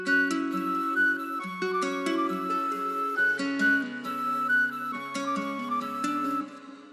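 An FL Studio loop pairing a breathy flute melody with an effects-laden ambient guitar sample, the flute line floating high above sustained chord changes and a low bass note, full and steady throughout with nobody speaking.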